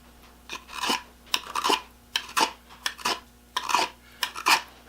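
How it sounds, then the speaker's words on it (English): A jackknife blade rubs and scrapes across a metal surface in about a dozen short rasping strokes, close and moderately loud, with brief pauses between them. "if you take a jackknife and you just rub it across the surface, it doesn't cut"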